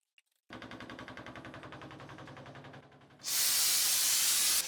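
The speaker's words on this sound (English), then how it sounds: "you just hook up to a air compressor and press the trigger and you're spraying it just like a regular paint sprayer" A Tzex sprayer driven by an air compressor sprays a basement coating mixture: first a rapid, steady rattling pulse for about three seconds, then a loud continuous broadband hiss of spraying, close up with no talk.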